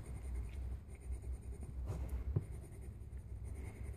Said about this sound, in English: Now with the second color, I'm just filling in the spaces I didn't color with my darkest pencil.